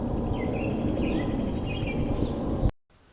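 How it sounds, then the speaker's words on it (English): Several birds chirp and whistle in short bursts over a steady, noisy outdoor background; the sound cuts off abruptly near the end. "I can't even have my coffee without being disrupted by birds."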